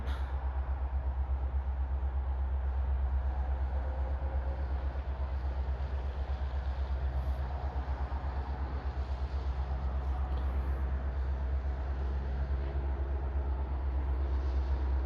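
CN freight train switching cars on track number 1 at Pembine in November, a steady low rumble of the locomotive and rolling cars heard from a distance, continuous and fairly faint with no talk.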